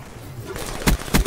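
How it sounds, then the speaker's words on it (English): Bursts of gunfire in a first-person shooter video game. Two loud, sharp broadband shots come late in the clip after a quieter stretch of low background noise. "They were just shooting."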